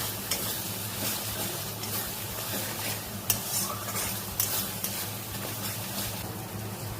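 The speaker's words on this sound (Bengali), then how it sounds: "মশলাটা খুব ভালো করে আমার কষা হয়ে গেছে দেখো" A fish masala of spices and yogurt for doi katla frying in a pan, with a constant close sizzle and frequent scraping and stirring clicks of a spoon against the pan, and no voices.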